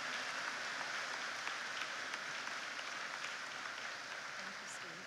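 Sustained applause from a graduation audience fills a large hall, a dense, even wash of many hands clapping at moderate distance, holding steady throughout with no voices over it.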